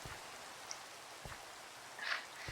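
Rain falling in a Minecraft modpack game world, a faint, even hiss of drops with a few soft taps, heard alone.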